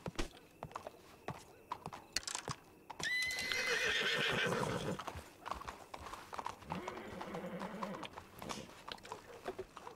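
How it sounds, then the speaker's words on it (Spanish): Horses in the Dead West RP video game: repeated hoof clip-clops throughout, with a loud whinny rising in the middle and a lower neigh after it, while voices talk intermittently. "Tu caballo y mi caballo se han quedado muy cerca."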